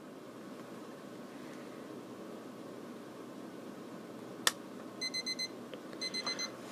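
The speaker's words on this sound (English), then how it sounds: "If you have the switch in the 0 position there, it'll wake you up with a beeper." A 1990 Braun ABR 313 SL FM clock radio sounds its alarm beeper in two quick clusters of rapid electronic beeps, close and clear over a faint steady hiss, after a single sharp click.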